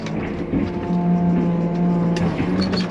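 A farm feed mixer churns silage for cattle with a continuous mechanical drone and low rumble, close by and moderately loud, with occasional knocks and rattles.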